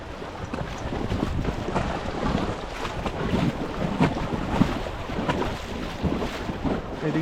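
Fast-moving river water rushes and churns around a raft on the Sangam in Ladakh, a continuous turbulent roar mixed with wind buffeting the microphone, rising and falling in gusts with no voices.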